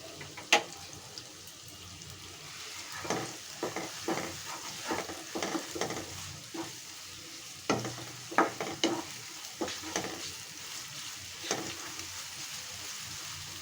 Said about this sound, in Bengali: এরপর দিয়ে দিচ্ছি আমি পেঁয়াজ বাটা